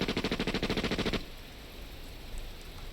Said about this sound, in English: And there is gunshot.